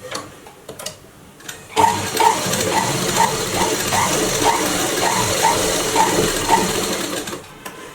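A sewing machine runs steadily, stitching a straight seam on a blouse hook strip, its needle ticking in a fast, even mechanical rhythm close by after a brief quiet start.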